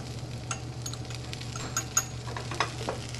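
Soft stirring and scraping in a pan of sizzling food, likely a creamy potato dish being seasoned, with a steady low frying hiss and a few light utensil clinks.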